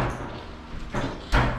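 Someone forces a stuck door open inside a house, with scraping rattles building to two heavy, close thuds, the last one the loudest.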